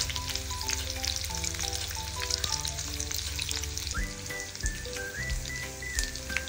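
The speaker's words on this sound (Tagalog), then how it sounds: "Sa kawali, nagpainit naman ako ng mantika dahil ipiprito naman natin itong atay at balon-balunan" Chicken liver and gizzards frying in hot oil in a pan, a steady crackling sizzle with scattered pops, moderately quiet and close, with no talking.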